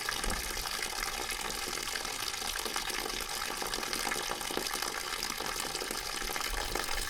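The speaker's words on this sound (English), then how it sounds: "I think I'm just going to let that thing drain out." Collected water drains out toward a floor drain in a building under turnover, a continuous gushing, splashing flow that stays steady and moderately loud, with no talking over it.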